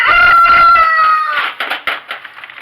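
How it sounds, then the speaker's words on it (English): Five-week-old chickens in a small flock give a loud, drawn-out crowing-like call, followed by short, scattered clucks close by. "These chicks are only about 5 weeks old, and there are 19 of them"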